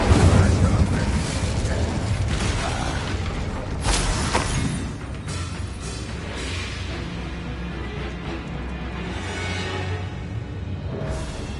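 Fire spells cast in Hogwarts Legacy erupt as booming bursts, with one strong blast at the start and another midway, over a rumbling game soundscape.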